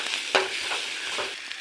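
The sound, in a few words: frying onions and chillies with turmeric and salt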